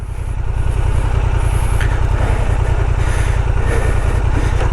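A Honda Transalp 750 motorcycle runs at steady low revs during off-road training, its engine pulsing loudly and evenly up close, with faint wind and occasional scuffs over the top.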